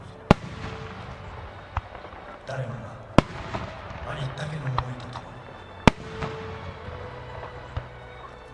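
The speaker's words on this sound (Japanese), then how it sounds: "花火を見る" Fireworks bursting at the Aizu fireworks festival in Japan, a 2019 display by Kanno Enka, with several sharp booming detonations spaced a few seconds apart and crackling between them, heard under a voice talking.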